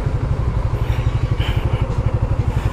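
Delivery rider's motorcycle engine idling while parking, a close, loud, rapid putter with an even pulsing beat and a faint mechanical clatter, no voices over it.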